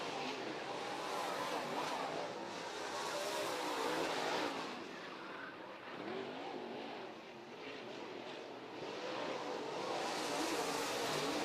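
Modified race car engines roaring around a dirt track during a WinterNationals race, a steady loud drone with rising and falling revs as cars pass, continuous and fairly near throughout.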